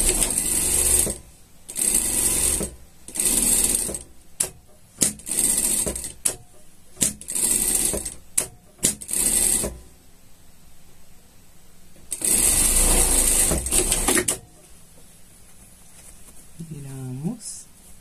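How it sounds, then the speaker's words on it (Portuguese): An electric sewing machine stitches a seam on pink and white unicorn pajama fabric in a series of short, loud whirring bursts, followed by a longer run, with brief pauses between and a voice speaking near the end. "E vamos passar uma costura aqui"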